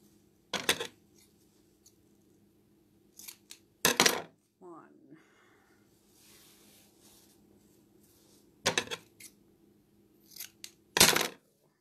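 Scissors snip through tulle pieces for a patriotic wreath, with several separate crisp cutting bursts spaced a few seconds apart over a steady low hum, close and fairly loud.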